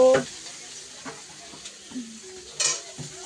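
Cauliflower frying in a pan, with a low sizzle and scattered scrapes and clinks of a utensil against the pan, plus a louder burst of hiss near the end, close by with no talking.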